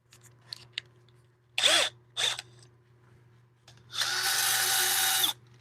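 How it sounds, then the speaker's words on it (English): Sandpaper pressed against a spinning wooden bowl on a woodturning lathe gives two short rasping bursts, then a longer steady hiss of sanding, close and fairly loud with quiet gaps between. "Let's get some sandpaper going on here."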